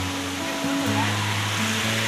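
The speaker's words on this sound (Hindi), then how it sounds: "छोटे झरने हैं, झरनों का पानी छूकर कुछ" Small mountain waterfalls in dense forest on the Rudranath trek make a steady, loud rushing roar that fills the whole short stretch, with a low hum running beneath it.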